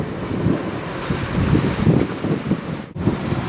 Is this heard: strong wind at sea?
yes